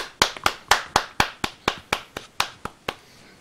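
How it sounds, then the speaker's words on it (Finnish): A small group gives a short round of applause on a Finnish podcast, about a dozen crisp, evenly spaced hand claps, close and distinct, ending abruptly with no talk. "pienet aplodit"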